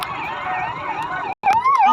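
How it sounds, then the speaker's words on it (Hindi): An ambulance siren at a Gwalior SAF ground parade float blares loudly and continuously, breaking off for a moment and then returning with a rising and falling wail. "एम्बुलेंस की आती हुई आवाज़"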